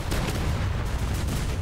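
A stick of twelve 1,000-pound bombs explodes in a video game, producing a dense, rumbling barrage of deep overlapping booms that rolls on without pause.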